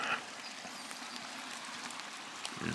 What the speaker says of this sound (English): And a nice gentle trickle.